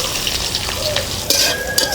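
Onions, green chilies and spices frying in oil in a pan while preparing a carp curry, a close steady sizzle with stirring scrapes and a couple of metallic utensil clinks, no voices.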